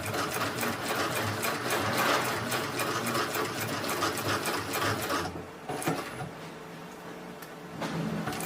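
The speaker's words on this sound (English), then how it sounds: "I like to start sewing from the gap." A sewing machine stitching a large accordion wallet runs in a fast, steady mechanical whir and rattle for about five seconds, then stops, leaving quieter handling noises.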